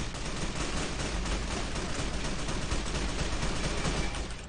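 Gunfire in the video game Fallout: New Vegas comes as a loud, dense, continuous wash of rapid shots, like a sustained firefight, filling the whole stretch without any talk.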